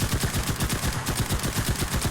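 Rapid bursts of an MP38 submachine gun in a World War II squad shooter, the sharp shots repeating fast and loud in a steady cyclic rhythm through the whole stretch, with no talk over them.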